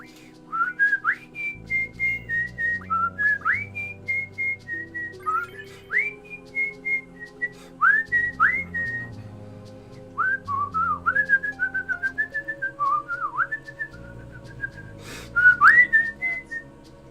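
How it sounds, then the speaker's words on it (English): A person whistles a melodic tune from Final Fantasy VIII, with a long run of short, clear, sliding notes in phrases over quiet background music, close and fairly loud. "I would whistle it, but I'm afraid it'll blow up my mic."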